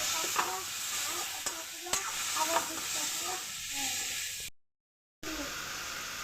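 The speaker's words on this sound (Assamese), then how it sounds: "দি মই আকৌ এইখিনি ধুনীয়াকৈ লাৰি দিছোঁ।" A pan of chanda fish curry with salt and turmeric is stirred with a utensil, giving a continuous sizzle and scattered scraping clicks before a brief silence and a return of the hiss.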